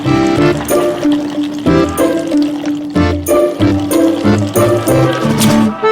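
Liquid poured in a steady, fairly loud stream, the flow continuing with slight surges and changes in pitch as the vessel fills.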